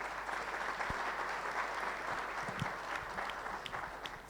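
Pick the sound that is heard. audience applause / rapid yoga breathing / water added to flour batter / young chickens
audience applause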